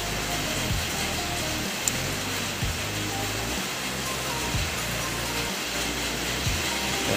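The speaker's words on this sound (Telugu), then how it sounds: "chudandi varsham full varsham vartundi" Heavy rain pours steadily outdoors in Sharjah, with a car nearby. It is a dense, continuous hiss of downpour with no pauses and no speech.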